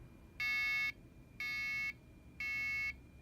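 An electronic buzzer on a home security system sounds three times in even half-second tones, harsh and steady, with short gaps between, over faint background hiss.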